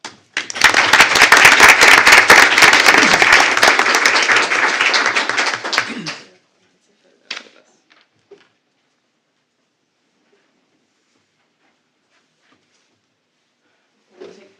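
Applause for the Educator of the Month at a school board meeting: a dense, loud burst of clapping in a room for about six seconds that then stops, followed by a few faint isolated knocks.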